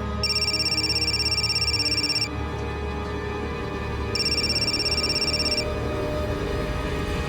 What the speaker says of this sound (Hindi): आपका फोन बहुत बज रहा है।